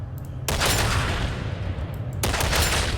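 Rapid gunfire from Warhammer 40,000: Darktide, a dense sustained burst of shots that cuts off briefly and then resumes, loud and close with no talking.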